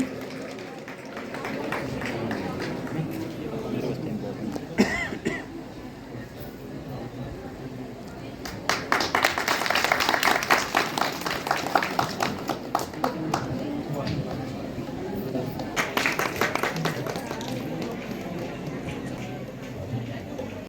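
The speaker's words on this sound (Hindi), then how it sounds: "जोरदार ताली के साथ विकास जी का भी मंच पर स्वागत करें।" An audience at a Jagran event in Damnote, Udhampur applauds as a guest is welcomed to the stage, scattered clapping building into a louder burst of applause that fades and returns briefly, with a voice on a loudspeaker and murmuring crowd.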